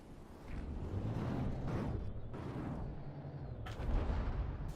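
A ship's cannon fires in the From the Depths naval combat game, a run of heavy booming blasts over a constant rumbling background, with no talk.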